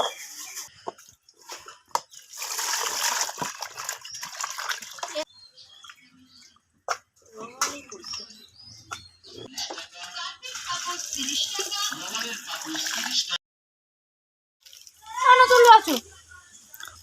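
Small puti fish being washed, with bursts of splashing and trickling water between pauses, alongside some talk and light laughter.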